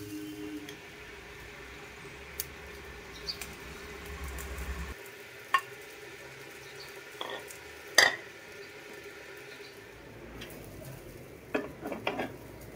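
Chicken noodles stirred in a pan: a steady low sizzle with scattered scrapes and clicks of a spatula against the pan, close and moderately quiet, no talking.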